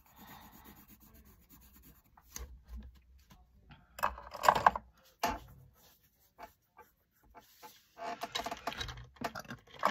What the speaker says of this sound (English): we're going to start with grabbing a red colored pencil and coloring in